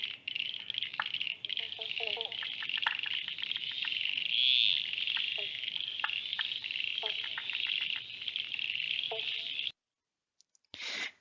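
Frogs call in a healthy habitat, forming a dense, continuous high trilling chorus with scattered closer chirps and clicks, which cuts off abruptly near the end.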